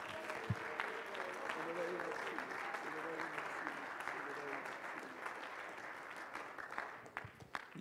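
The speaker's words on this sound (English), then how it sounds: "why don't you clap your hands to him one more time all over this place" A large church congregation claps steadily and continuously during a worship service, a dense wash of applause filling the room, with some voices mixed in beneath it.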